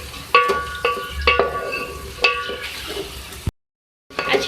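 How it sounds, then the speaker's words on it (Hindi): Onions frying in a pan for dhaba-style beef aloo gosht, with steady sizzling and a few sharp stirring scrapes and clinks, close and moderately loud, then a brief cut to silence before the sizzle resumes. "इसको फ्राई करेंगे।"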